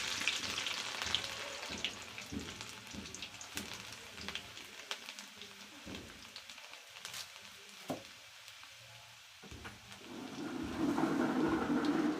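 Quiet, steady sizzling of mustard seeds and garlic frying in hot oil, with scattered small pops and crackles that grow louder toward the end.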